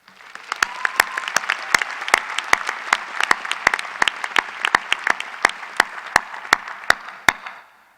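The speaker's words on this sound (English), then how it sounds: "Give yourselves a big round of applause." Graduates at a business school commencement applaud in a steady, dense wash of clapping, with sharp individual claps standing out near the front throughout.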